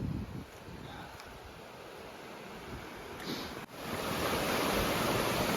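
Lower Moosehorn Creek in the Moosehorn Valley flows with a steady, soft broadband rush that swells slightly in the second half, blended with light wind noise, heard from the trail with no speech.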